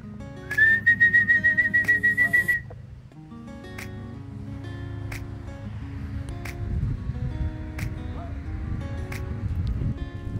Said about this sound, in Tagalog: Kaya kailangan ko sumipol ng 2 beses.